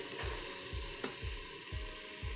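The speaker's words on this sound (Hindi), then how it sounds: "अभी हम 7 से 8 मिनट और अच्छे से भुनाई करेंगे जब तक कि ऑयल सेपरेट ना हो जाए" Meat frying in oil over a high flame for chana daal gosht, a steady loud sizzle with regular scraping stirs about every half second, close up and with no talking.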